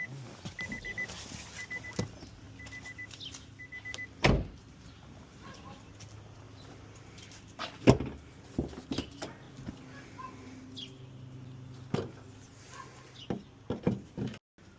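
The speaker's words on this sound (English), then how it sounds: "now let's pop the hood" A 2015 Nissan Altima with a 2.5L engine gives two sharp, separate clunks as the hood release is pulled and the hood pops free, close by in an otherwise quiet garage with faint background rustle.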